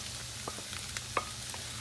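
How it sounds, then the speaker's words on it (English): Onions and fresh corn with its milk sizzling in oil and butter over raised heat, a steady close frying hiss broken by small pops and spatters. "I've turned up our heat because I wanted them at this kind of a sizzle when I add my corn"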